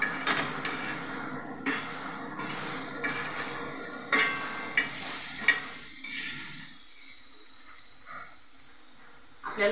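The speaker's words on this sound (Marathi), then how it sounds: "मी कांदा तव्यावर भाजते" Onions roasting on a hot griddle while being stirred, a soft continuous sizzle with scattered scraping and tapping strokes that fade toward a quieter hiss near the end.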